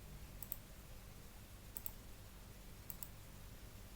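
A computer mouse clicks faintly while working in Adobe Illustrator, a few isolated double clicks spaced about a second apart over a quiet hiss.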